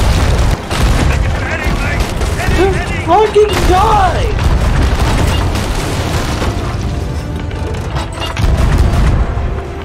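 Ship cannons fire in a pirate video game, a string of loud, boomy blasts with rumbling low end spread across the clip while someone shouts over the battle.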